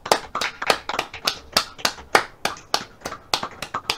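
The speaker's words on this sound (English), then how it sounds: "Don't we clap really much?" A small group of people clapping during a live online show, about a dozen distinct, evenly spaced claps ringing out close and clear with no talking.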